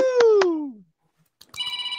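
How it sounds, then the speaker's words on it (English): A phone rings for an incoming live call at an evening talk event: a descending electronic tone with two sharp pulses, a brief pause, then a steady warbling ring tone. "it's a live phone call"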